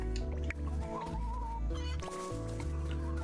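Chickens and roosters clucking in a video game, several soft overlapping clucks and squawks, faint and steady beneath a musical background.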